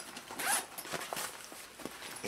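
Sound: zipper opening on travel sneaker bag compartment

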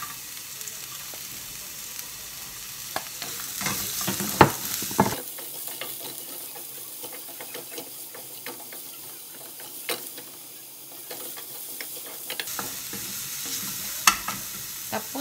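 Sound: garlic and onion sautéing in a pan

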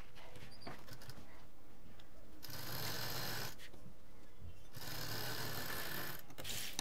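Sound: sewing machine stitching a transparent utility bag

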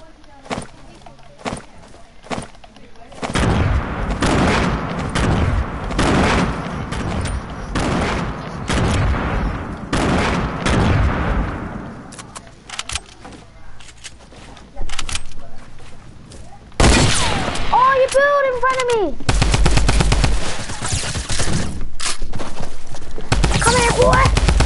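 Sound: grenade explosions and gunfire in a video game

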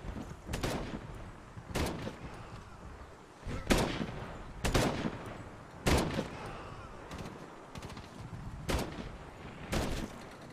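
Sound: gunfire in Medal of Honor video game

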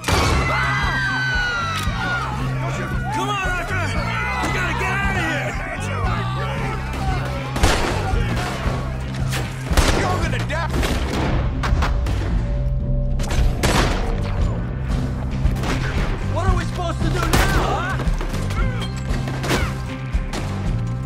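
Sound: gunfire in video game Red Dead Redemption 2

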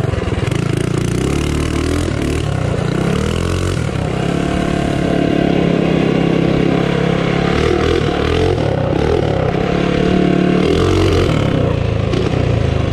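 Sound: Tillotson 212 minibike engine revving and breaking up

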